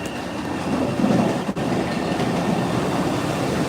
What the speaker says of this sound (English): here it comes the 1964 new red line train